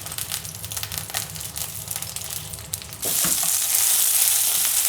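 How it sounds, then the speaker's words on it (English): Mushrooms or similar pieces frying in a pan for a keto vegan home-cooked meal, a steady close sizzle that suddenly grows louder and brighter partway through and then holds as a dense hiss. "Just fry till they're nice and golden brown."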